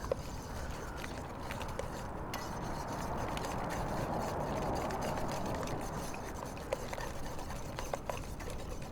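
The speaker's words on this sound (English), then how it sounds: "And then whisk until that's all smooth." A whisk scrapes and swirls steadily through melted chocolate, vanilla and butter custard in a pot, making a continuous close rhythmic rubbing and liquid churn with occasional small clicks against the metal, and no talking.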